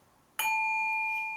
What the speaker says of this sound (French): Voilà, le petit gong déjà.